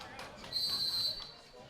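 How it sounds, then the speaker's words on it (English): A referee's whistle at a junior varsity boys floor hockey game, one sustained shrill blast lasting about half a second over faint gym noise. "The whistle blows."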